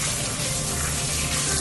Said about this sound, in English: Now I'm gonna go in with cold water